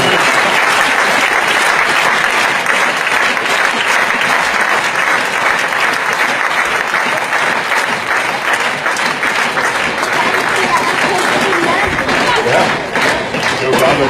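Spectators at a badminton match applaud in a dense, continuous roar of clapping with crowd noise, loud and close, while a commentator talks over it.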